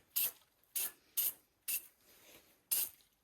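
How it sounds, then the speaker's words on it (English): Five short hissing bursts from an aerosol can of anti-spatter spray onto welding table surfaces, sprayed in quick succession with brief pauses, close and fairly quiet. "It's anti-spatter spray. And you just, I just spray that on the surfaces"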